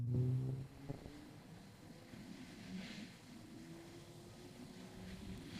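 A four-cylinder CFMOTO motorcycle engine purrs with a smooth, steady low rumble at a constant idle, heard up close without talk.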